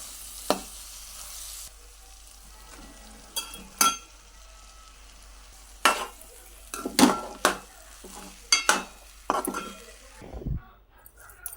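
Tomato rice is stirred in a pan. A spoon scrapes and clinks against the metal in scattered bursts over a faint background, with more frequent strokes toward the end.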